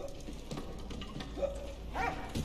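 Dog in the game Valiant Hearts: The Great War, making a few soft whimpering yips over a low, steady background, faint and brief.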